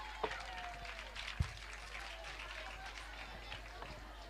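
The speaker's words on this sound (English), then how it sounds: "A round of applause for Shining Star" An audience at a children's variety talent show claps for a young performer, a faint, thin patter of applause with a couple of sharper knocks, heard at low level.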